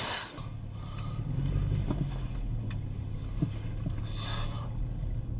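A Toyota or Lexus car being driven, with a steady low engine and road hum throughout and a few faint clicks and knocks from inside the cabin.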